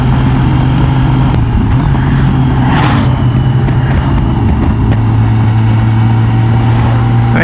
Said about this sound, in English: Thank you, Mr. Truck.